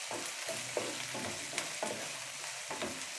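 Onions sauté in a pan for potato masala, with rhythmic stirring strokes scraping over a low, steady sizzle, close but fairly quiet.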